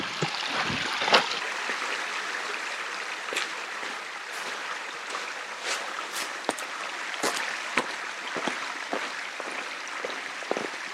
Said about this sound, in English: This is Reavis Creek we're gonna cross right now.